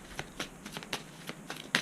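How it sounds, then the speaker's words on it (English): A deck of cards is shuffled up close in a solo tabletop game of Lifeform with the Dragon's Domain expansion, giving a series of quick, crisp riffles and snaps in an irregular rhythm with no voice over them. "I'll shuffle the deck."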